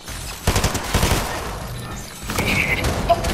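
Rapid bursts of gunfire in the Fortnite video game, several clustered volleys of shots, loud and close, with a brief lull in the middle before another sustained burst.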